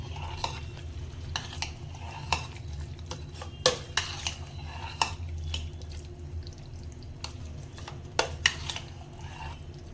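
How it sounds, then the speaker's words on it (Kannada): Rava batter for instant rava paddu is stirred with fried seasoning and coconut in a bowl, giving soft wet scraping and irregular spoon clinks against the vessel over a faint low hum. The sounds are close and gentle, with no talking. "ಇದನ್ನ ಒಂದು ಸ್ವಲ್ಪ ಹಿಟ್ಟಿಗೆ ಹಾಕೊಳ್ಳೋಣ. ಎಷ್ಟು ಬೇಕೋ ಅಷ್ಟು ಖಾರಕ್ಕೆ ತಕ್ಕಂಗೆ ಹಾಕೊಂಡು ನೋಡೋಣ. ಎಲ್ಲದನ್ನು ಕಲಿಸ್ಕೊಳ್ಳೋಣ."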